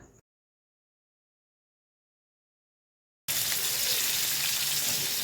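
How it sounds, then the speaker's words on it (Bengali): Hilsa fish wrapped in gourd leaves begins frying in hot oil after about three seconds of silence, then sizzles loudly and steadily, close up. "তারপরে মাছটা তেলে ভাজছি"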